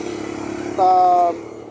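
A Racal MD100 motorcycle engine runs close by with a steady putter, briefly rising to a louder revving whine for about half a second before settling back to idle.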